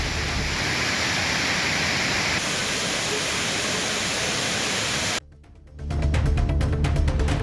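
Thiruparappu waterfall on the flooded Kodaiyar river roars as a dense, steady rush of water. It drops out briefly near the end and returns just as loud.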